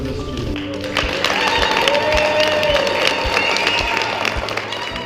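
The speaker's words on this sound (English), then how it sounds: "Could we please have one last round of applause for all of the students?" An audience at an agroecology leadership training session applauds the students. Sharp clapping rises quickly into a sustained round, with scattered voices and cheers mixed in.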